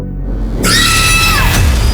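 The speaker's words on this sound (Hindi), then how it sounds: "जब आपको फ़ोन पर किसी के चीखने की आवाज़ सुनाई दी" A person screams over a phone line, a harsh high-pitched cry that starts abruptly after a brief quiet moment and holds loud and steady, thin and band-limited like a call.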